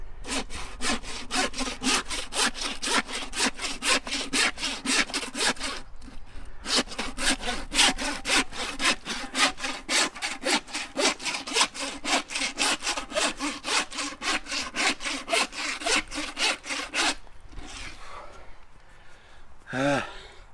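A hand saw cuts through a hog carcass in fast, even back-and-forth strokes, close and loud, with one short pause around the middle; heavy breathing comes in as the sawing stops near the end.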